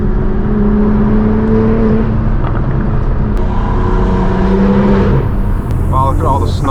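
A straight-piped BMW M4 G82 roars loud and close, its exhaust rising in steady accelerating pulls with a droning whir and brief shift breaks, then crackling near the end.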